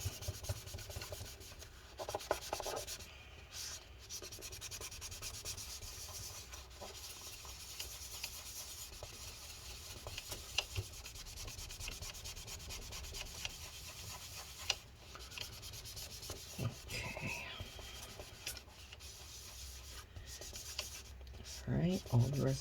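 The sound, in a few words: wiping residue off a MacBook Pro with a cloth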